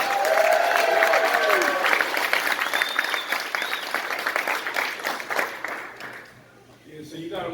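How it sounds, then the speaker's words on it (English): A crowd at the Sea Hawkers banquet for the 2019 Seahawks claps loudly and steadily before the applause tapers off, with a few whoops and voices mixed in. "Give yourselves a round of applause."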